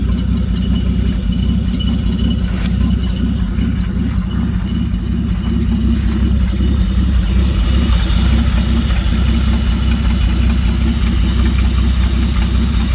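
A 1946 Plymouth flathead six, restarted after sitting six years, idles steadily with a loud, smooth, low rumble that runs evenly and close throughout without voices.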